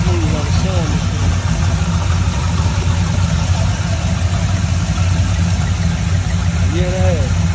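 A swapped 5.7-litre LS V8 idles steadily in a 1959 Chevy Apache stepside pickup, a smooth continuous low rumble that stays loud and even throughout, with people talking nearby.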